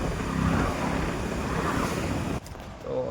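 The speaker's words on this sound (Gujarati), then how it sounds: "અહીંયા બે નદીનો સંગમ થાય છે." River water rushing at the confluence of the Alaknanda and Mandakini at Rudraprayag, a loud, steady roar close by with wind buffeting the microphone, briefly dipping near the end.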